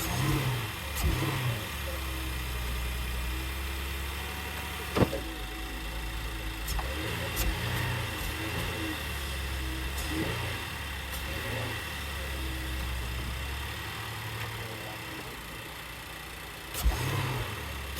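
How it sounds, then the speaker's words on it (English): A Chevy Traverse engine idles with a steady low hum, broken by a few short revs and sharp clicks, recorded up close at modest volume. "I'll show you what these motor mounts look like when I'm running the engine."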